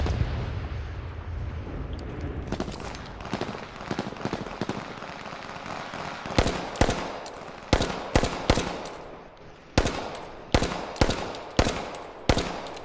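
Rapid bursts of gunfire in the video game H1Z1, with scattered shots early giving way to loud, sharp volleys of repeated cracks that come in quick clusters with short pauses between them.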